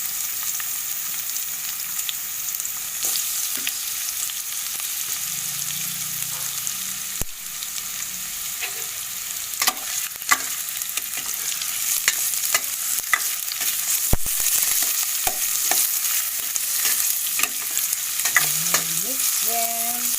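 Ginger frying and being stirred in a pan while cooking escabeche, sweet and sour fish: a steady sizzle runs throughout, broken by scattered scrapes and clicks of the spatula, with no talking.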